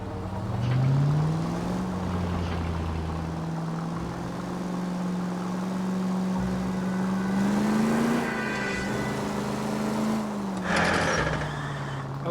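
A 1940s-era car in the L.A. Noire video game drives with a steady engine drone that rises and falls as it accelerates, followed by noisy braking bursts near the end, with no talk.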